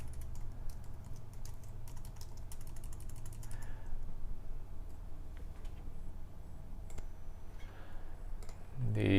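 Rapid clicking of computer keyboard keys while writing C++ code for a Win32 command-line app, a steady, fairly close patter of keystrokes with brief pauses and a low hum underneath, ending in a louder bump.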